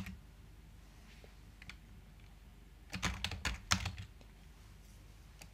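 Computer keyboard typing while writing M code in Power Query, faint scattered keystrokes at first, then a quick dense burst of clacking clicks in the middle before it settles back to quiet.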